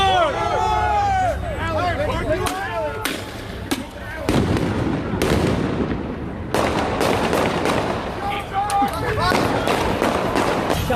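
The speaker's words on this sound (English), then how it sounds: "we heard what sounded to be like gunfire" Gunfire heard from a camera position near a Louisville police shooting: a series of sharp, loud shots and bangs scattered across the scene, with crowd chatter and shouting voices underneath throughout.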